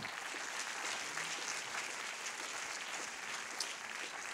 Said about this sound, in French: J'aimerais qu'on les applaudisse bien fort.